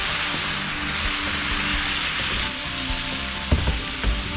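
Sauce sizzles and spits loudly on a hot griddle, a steady broad hiss with a few sharper pops and clatters near the end, and no talking.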